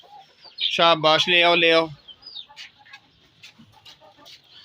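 Chickens clucking and calling nearby in a yard where Aseel hens are kept, loud at first and then fading into softer scattered clucks, with a person talking briefly over the start.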